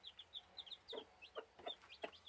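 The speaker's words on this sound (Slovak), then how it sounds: "Včera sa nám vyliahli kuriatka." High, short peeping calls from newly hatched chicks repeat in quick bursts, joined by a few lower clucks from a mother hen close by.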